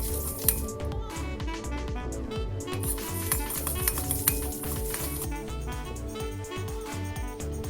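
Coriander seeds, cumin, black pepper and red chilli being dry roasted in a pan, stirred and tossed with continuous scraping, light rattling and a faint sizzle, close and steady, no talking.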